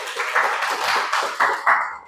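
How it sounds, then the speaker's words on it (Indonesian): A class claps briefly, a burst of quick hand claps with a few louder accents near the end, fairly close and with no talking over it. "Cocok, tepuk tangan lagi."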